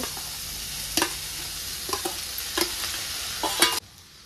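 Cooked moong beans stir-fried with onion and tomato in a pan, a steady close sizzle broken by several sharp scraping stirs of the spatula, the last ones loudest before the frying noise cuts off.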